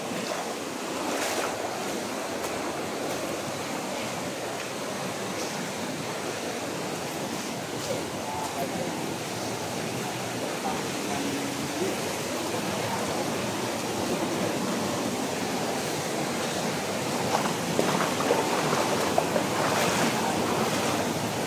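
Fast-flowing water and waves wash continuously over a sandy bank, a broad rushing roar that swells slightly toward the end, with wind buffeting the microphone now and then.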